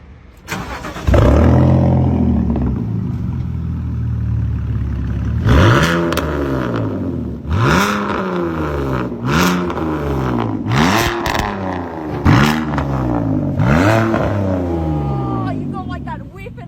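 An exclusive sports car engine cranks and catches, then is blipped repeatedly in sharp rising revs that fall back between bursts, loud and close, with voices talking over parts of it.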